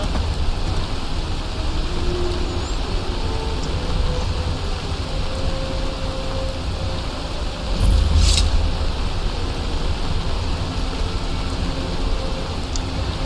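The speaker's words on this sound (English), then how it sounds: "I can get out of the rain now." Steady rain pours down in an outdoor video game scene, a continuous close hiss that swells briefly in a louder gust about two-thirds of the way through, with no talking.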